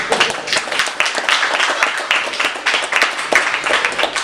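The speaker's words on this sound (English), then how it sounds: "I wasn't milking your applause, huh?" Audience applause fills a talk by Chip Kidd about Bat-Manga at MoCCA: dense, steady clapping from a crowd, loud and close, holding evenly throughout with no voices on top.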